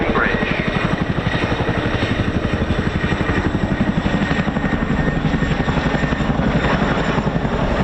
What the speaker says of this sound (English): Chinook is used in operations moving stores, freight and vehicles everywhere from Afghanistan to Wadey Bridge.